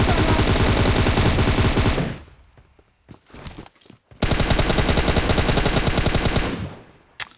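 Sustained machine-gun fire in the PUBG Mobile shooter, two long loud rapid bursts separated by a brief pause with scattered shots, close and dominant.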